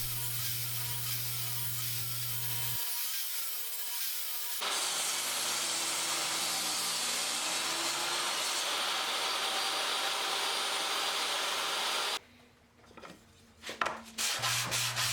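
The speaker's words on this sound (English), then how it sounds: "I just wanted to take all of the little tiny ridges off that were left by the planer." A power sander buzzes over a wooden butcher block, smoothing planer ridges in a sustained rough rubbing drone that begins after a brief pause and stops abruptly near the end.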